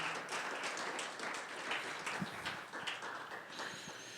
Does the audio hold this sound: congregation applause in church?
yes